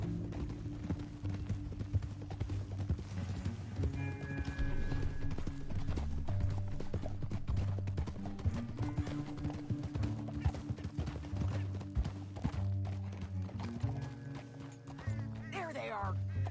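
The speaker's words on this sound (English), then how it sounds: "back on your horse" Horses gallop with steady clip-clop hoofbeats in the Western video game Red Dead Redemption 2, over a continuous game music score, with a voice speaking now and then and a brief whinny.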